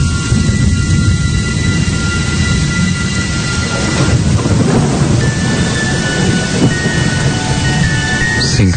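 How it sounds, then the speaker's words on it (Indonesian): Heavy, long-lasting rain pours down near a beach lodging. The downpour is a loud, steady roar throughout, with deep rolling thunder rumbling underneath. "Singkat cerita, hujan yang deras itu pun cukup awet."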